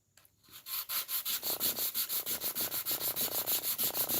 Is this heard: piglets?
no